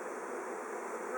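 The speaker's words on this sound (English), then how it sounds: "It's a big swarm." A large honeybee swarm gives a dense, steady buzz close by, with no voices over it.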